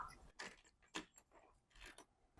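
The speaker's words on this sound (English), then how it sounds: "So you can lock it and unlock it with the keys too." A key works a Lockzo smart door lock, with a few faint, close jangles and clicks of metal keys in an otherwise quiet room.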